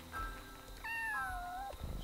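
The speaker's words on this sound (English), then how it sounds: "So we got another cat." A single drawn-out cat meow in the video game Yonder: The Cloud Catcher Chronicles, clear and tonal, rising then falling, with a low hum and quiet game ambience beneath.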